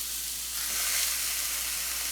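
Steak searing on a hot grill pan, a steady close sizzle and hiss that holds evenly throughout with no voices.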